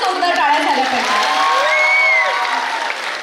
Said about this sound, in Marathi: तिच्यासाठी पुन्हा एकदा जोरदार टाळ्या झाल्या पाहिजेत